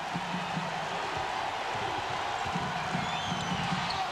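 Basketball arena crowd at a 1997-98 Kansas at Iowa State college game, a steady, moderately loud roar of cheering with faint ball bounces underneath.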